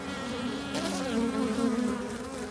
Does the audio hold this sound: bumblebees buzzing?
yes